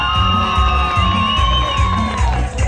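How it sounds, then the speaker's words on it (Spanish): A crowd at a 2019 dance contest in Villa Magica Mitla cheers loudly for dance couple number 4, with whoops and shouts over steady music and low, pulsing thumps. "Para la parejita número 4."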